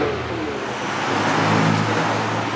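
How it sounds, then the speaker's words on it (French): A truck engine rumbles steadily as the vehicle is driven around, a close, continuous drone that swells slightly midway, with no talk over it. "Ouais, je vais ramener le camion devant."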